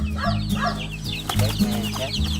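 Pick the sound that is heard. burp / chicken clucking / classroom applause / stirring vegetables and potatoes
chicken clucking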